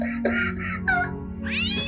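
Cats meowing in a scene from the comedy film Date Movie: several close, loud meows in quick succession ending in a drawn-out rising yowl, over a steady low hum.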